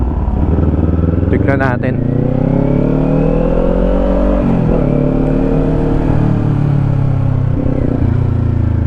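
A Kawasaki Ninja 400 motorcycle engine revs and roars loudly up close while a helmet-mounted GoPro Hero 12 with an external mic records it. The engine pitch rises, drops briefly, then climbs again, and someone speaks briefly over it.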